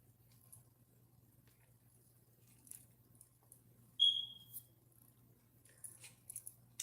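A single short, high electronic chirp rings out once amid near silence and faint household rustles, a smoke detector's low-battery warning beep.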